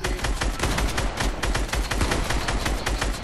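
Rapid automatic gunfire in a Fortnite battle, continuous dense bursts of shots filling the whole stretch at close range and high volume, with no pauses and no voices.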